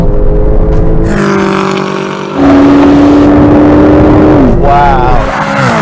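A high-powered car, apparently a tuned 1000 bhp BMW M5, accelerates hard while overtaking another car, its loud engine tone rising steadily through the gears before easing off, with excited voices talking over it.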